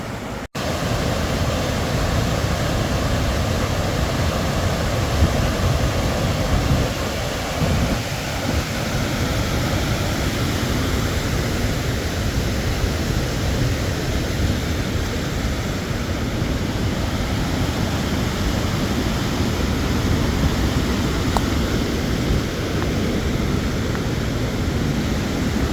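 The Tuolumne River rushes and its waterfalls pour nearby, a loud, continuous broadband roar of water that holds steady and unbroken for the whole stretch.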